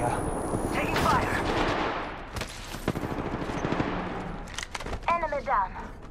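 Gunfire in the video game Apex Legends rattles in dense, loud bursts, trailing into scattered single shots, with a voice heard briefly near the end.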